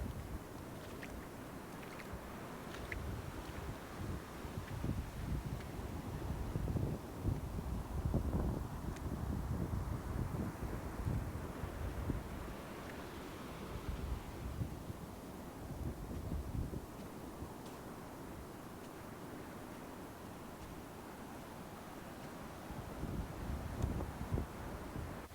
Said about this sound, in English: It's pretty windy, but it's pretty peaceful at the same time.